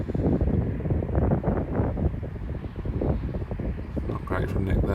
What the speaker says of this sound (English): That wind just blowing the ball. It's so strong, that wind, that it was moving the putts on this day.